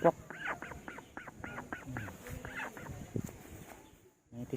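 Wild ducks quack in a rapid series of nasal calls, fairly close but quiet, with outdoor background noise and a brief pause before calling resumes.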